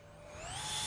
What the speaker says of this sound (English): Let's get that vacuum out.